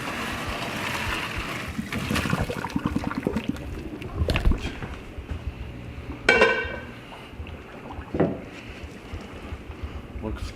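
Cooked pasta and its water are poured into a kitchen sink, with a sloshing rush, clanks of the pot and a few sharp metallic knocks in between.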